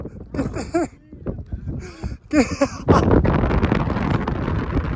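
Strong mountain wind buffets a tent, with a heavy roaring rumble rising and holding steady after bursts of shouting and talk from a group outdoors.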